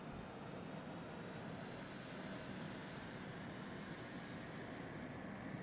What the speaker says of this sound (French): L'APU qui démarre.